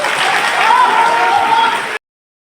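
A crowd at a large Hindu gathering (Vishva Hindu Parishad sammelan) in Selvas applauds in a steady dense roar of many hands, with a voice carrying over it, then the sound cuts off abruptly.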